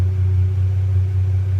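A Ford Ranger Raptor with a dump pipe installed idles in a steady, loud, deep exhaust drone that holds even and unbroken throughout, heard up close.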